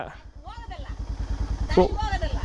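A motorcycle ridden along a rough, uneven path toward Bolumalai Fort: a steady, close engine putter with a pulsing low rumble, while voices talk over it throughout.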